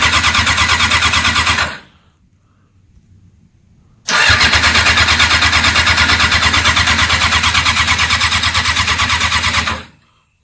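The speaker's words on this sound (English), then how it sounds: "I'm going to crank it over and check the level and all that." An engine cranks over after an oil filter change, a loud steady whirring churn for about two seconds, a short pause, then a second long, even cranking run of roughly six seconds that cuts off abruptly.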